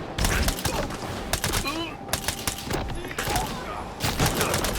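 Rapid bursts of gunfire in the video game Stalker 2, repeated volleys close and loud throughout, with someone talking over the shooting.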